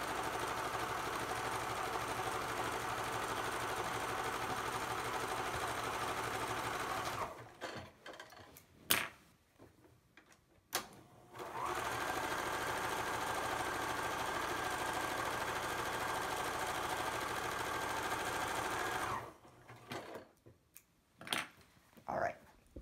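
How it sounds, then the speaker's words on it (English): A sewing machine zigzag-stitches fabric for a face mask in steady continuous bursts, stopping twice briefly with small handling noises between runs before starting again. "So we're gonna go to our sewing machine, and we're going to zigzag all the way down both sides."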